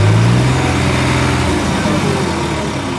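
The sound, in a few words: New Holland 3630 Special Edition tractor engine idling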